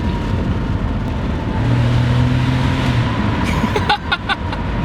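A Nissan Stagea RS4 wagon accelerating from inside the cabin, a steady low engine drone that pulls and then flattens out, with a few short mechanical clicks near the end.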